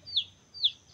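Two short high-pitched chicken calls, about half a second apart, fairly faint with quiet background between them.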